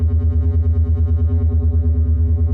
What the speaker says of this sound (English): So here's what this polygrid sounds like. I just activate it by clicking that yellow button